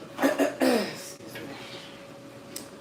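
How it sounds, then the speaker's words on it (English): A couple of quick, muffled coughs close by from someone getting over a cold, then quiet room noise. "Apologies for the coughing, I'm like getting over a cold."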